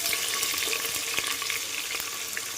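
Onions frying in a pan with bay leaf and kasuri methi for mutton biryani, a steady close sizzle with light stirring clatter running through the whole stretch, no voices.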